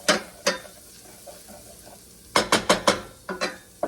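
Garlic frying in a pan while being stirred, with scraping utensil strokes in short bursts over a faint, low sizzle, close up and without speech.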